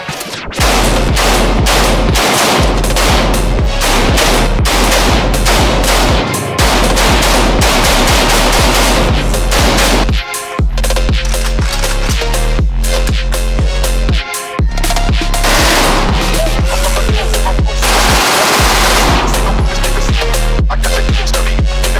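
Full-auto Glock 18 pistol firing long, loud, dense bursts at close range, with rapid continuous reports and only brief gaps between strings of fire.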